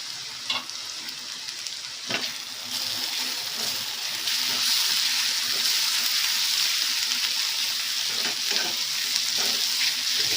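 A puffed rice mudde mixture with ground dry coconut fries in a pan, a continuous close hiss that swells louder partway through, with occasional sharp stirring knocks and no talk.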